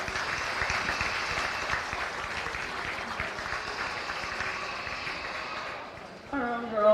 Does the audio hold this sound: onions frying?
no